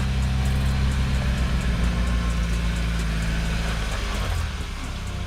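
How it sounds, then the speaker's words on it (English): A UAZ Patriot SUV engine runs at high revs in off-road mode on an obstacle course, giving a loud, steady, low droning roar that eases slightly near the end, with no talk. "judging based on the engine sound, it seems that the car is driving at higher revs"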